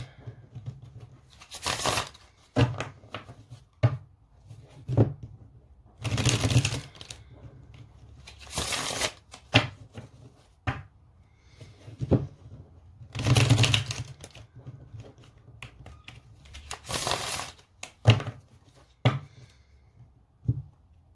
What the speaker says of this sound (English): So I'll just get some tarot cards with this.